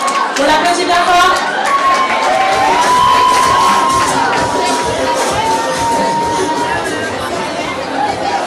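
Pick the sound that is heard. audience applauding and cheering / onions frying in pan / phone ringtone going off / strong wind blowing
audience applauding and cheering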